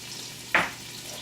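Onions hit hot rendered bacon fat in a single brief, sharp sizzle burst that fades quickly over a quiet background.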